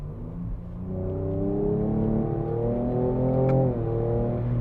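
A Ford Ranger Raptor's 3-liter V6 engine revs up and down with rising and falling throaty tones, close and steady, a quick blip as the 10-speed automatic drops gears.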